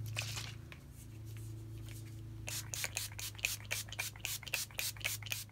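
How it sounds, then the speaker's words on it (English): Urban Decay All Nighter setting spray is misted onto a face in a quick run of short, soft spritzes, close and quiet, following a stretch of low rustling and hum. "I'm going to go ahead, spray my face with my Urban Decay All Nighter Setting Spray."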